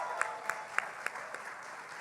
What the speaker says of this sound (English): Can we give those two gentlemen a round of applause